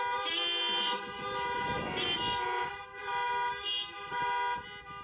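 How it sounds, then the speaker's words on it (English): Many car horns honk loudly and continuously at a church worship service, overlapping into a sustained blare with a few brief gaps. "Let's honk our horns for peace today."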